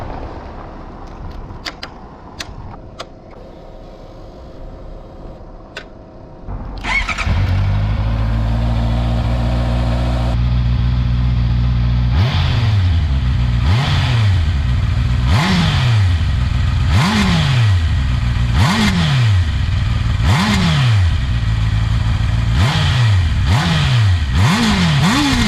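A 2020 Honda CBR 650R with its stock exhaust ticks quietly for a few seconds, then starts and idles. It then revs sharply again and again in regular blips, loud and close, with no talk.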